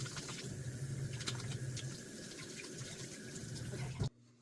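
Tap water runs steadily at moderate level while stained hands are rinsed under it, then cuts off abruptly near the end.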